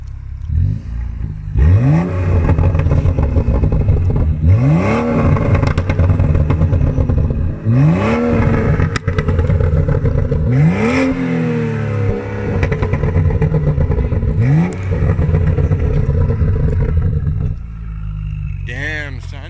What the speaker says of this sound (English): Give some revs for the boys. All the YouTube mons want to hear it.